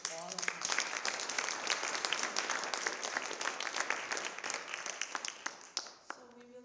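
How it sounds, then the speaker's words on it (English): A Black History Month celebration audience breaks into a sustained round of applause and clapping that fills the room at steady strength, then thins out near the end as a voice begins. "let's give a round of applause to all of us"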